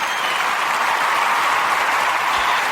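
A hand-clap sound effect plays as a steady, dense burst of clapping that resembles crowd applause, loud and continuous throughout with no voices over it.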